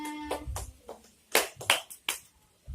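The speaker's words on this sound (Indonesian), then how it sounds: "Tepuk tangan semuanya." A primary school microteaching class gives scattered applause, a few separate bursts of claps spread out over a couple of seconds, fairly quiet, with a brief voice at the end.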